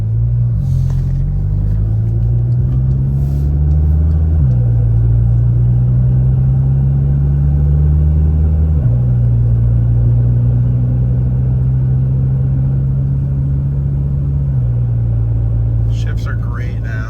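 Volkswagen Tiguan with a swapped-in DQ250 DSG transmission on stock tune, driving with a steady engine rumble that steps through quick gear changes, loud and continuous in the cabin.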